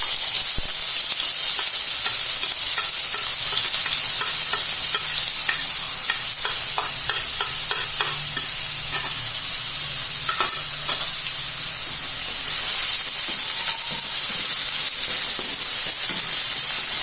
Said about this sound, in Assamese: এতিয়া পিয়াজ আৰু জলকীয়াখিনি দি দিম